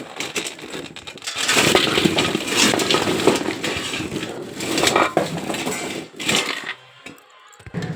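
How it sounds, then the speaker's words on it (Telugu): Metal clatters and scrapes as murukku are scooped and tipped into steel bowls, with clinks and rattles in uneven bursts, close by. "ఇవి వేరే గిన్నెలకు తీసేసుకుందాం"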